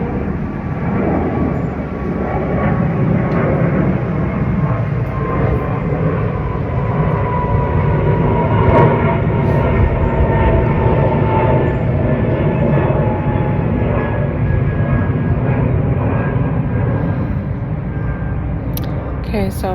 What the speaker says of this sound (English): I'm going to wait for the plane to go by